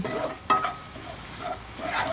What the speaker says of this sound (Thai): ผัดเครื่องแกงก่อนนะ่ะ